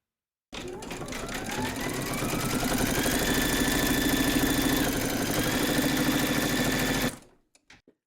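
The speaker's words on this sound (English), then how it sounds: "we're now going to stitch round number 5, and that's going to do the satin stitching along the join here" An embroidery sewing machine satin-stitches with gold thread, running as a fast, continuous mechanical whir for about six and a half seconds before stopping, followed by a few faint clicks.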